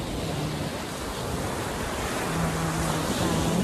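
Sea surf at an uncrowded beach in Shimane, Japan, giving a steady, broadband wash of waves that stays close and constant throughout, with no speech.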